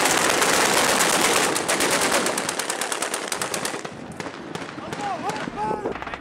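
Rebel militiamen near Ras Lanuf, Libya, fire into the air at warplanes in dense, loud bursts of automatic gunfire that thin out into scattered shots, with voices shouting in the background.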